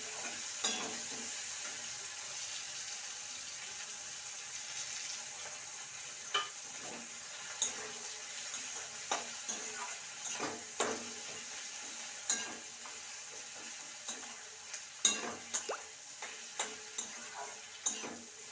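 Chopped onions fry with bay leaf, cumin seeds and whole cardamom, giving a soft, steady sizzle broken by occasional light clicks of stirring, faint and with no talking.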